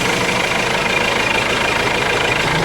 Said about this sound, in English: the engine stays the same, it still starts rattling, it doesn't cut out